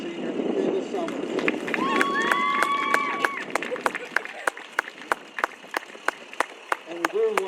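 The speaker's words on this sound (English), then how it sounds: "Again, a round of applause for our senior Michaela Summers." Applause from a softball crowd honoring a senior player, steady clapping mixed with voices and cheers, then thinning to sparse individual claps near the end.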